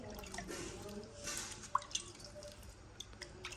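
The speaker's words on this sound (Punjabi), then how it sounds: "ਲਓ ਜੀ ਆਪਾਂ ਪਾਉਣੇ ਪਾਣੀ ਇਹਦੇ ਵਿੱਚ" Soft splashing and dripping of water onto freshly sown barley soil, with a few sharper drips, quiet and close, with faint background voices.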